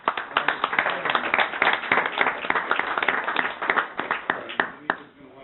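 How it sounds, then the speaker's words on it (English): Applause at a city council meeting in Gardner, a dense run of many hands clapping close by, steady and lively for about five seconds before tapering off at the end. "I'd like to give everybody a big round of applause."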